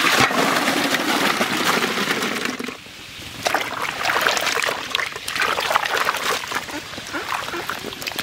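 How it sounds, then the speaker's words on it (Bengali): Cut pumpkin pieces are washed in water, giving a steady near trickling and splashing with sloshing and a brief lull midway. "ভালো করে ধুয়ে নেব।"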